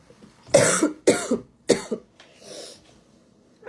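A person with a cold coughs three times in quick, harsh bursts, followed by a softer cough and a breath, all close to the microphone with no talking.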